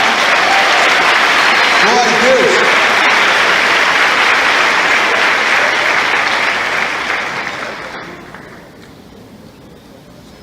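A church congregation applauds loudly and steadily, the dense clapping fading away over the last few seconds, with a preacher's voice heard briefly over the applause.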